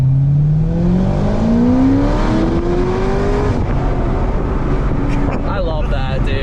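A C6 Corvette ZR1 with a modified exhaust accelerates hard in first gear, its loud engine note climbing steadily in pitch as it revs, with people talking over it.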